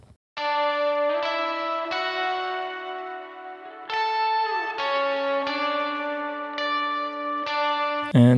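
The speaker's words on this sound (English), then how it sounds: "And this is the second guitar that's adding on top of that." A second guitar layered over the first in a mix plays sparse ringing notes, each struck and left to decay with an echoing, chorus-like shimmer, several distinct attacks spaced across the passage.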